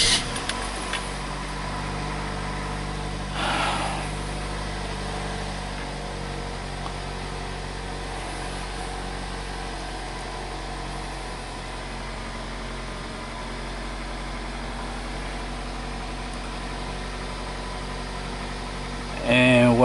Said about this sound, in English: I'm gonna start this engine